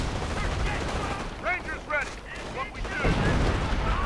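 An artillery barrage and gunfire in a World War II strategy video game, heard as booming, crackling blasts layered with whistling shells, loud and continuous, with faint voices underneath.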